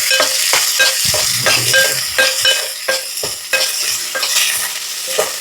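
Curry leaves frying in hot oil in a pan, a loud steady sizzle with repeated scraping and clinking of a stirring spoon at an uneven rhythm, up close.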